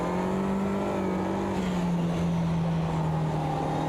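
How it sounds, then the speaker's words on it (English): A Mini race car accelerating out of the pit lane back onto the circuit, a steady, loud engine drone with a slowly falling pitch, close and continuous. "Norchi leaves pit lane and accelerates back onto the circuit for the final time today."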